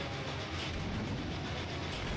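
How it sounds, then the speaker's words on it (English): A train rumbling past in the video game The Legend of Spyro: A New Beginning, a continuous loud rolling rattle with clattering wheels, no voices. "I recommend not getting hit by the train"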